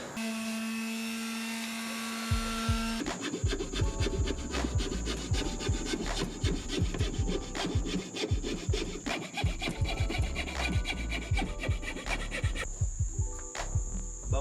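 A handsaw cuts back and forth through timber for a Suzuki Jimny table build, with steady rapid strokes, close and loud, running throughout with no talk.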